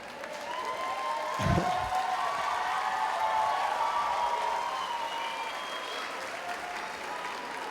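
An audience at a 2013 spring high school graduation ceremony applauds loudly and continuously, with a few shouts and cheers rising near the start before the clapping slowly fades.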